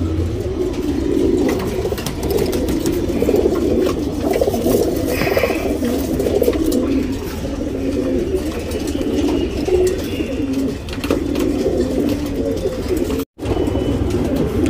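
Tournament pigeons of the chapper patta type coo steadily in a loft, a dense low murmur of overlapping calls from several birds running throughout without pause.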